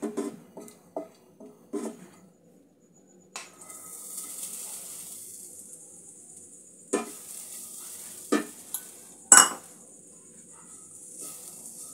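Grated coconut is stirred into ghee with cracked cardamom in a pan to make a sweet potato pitha filling, giving intermittent close scraping strokes and bursts of soft sizzling between quiet pauses, with no talking.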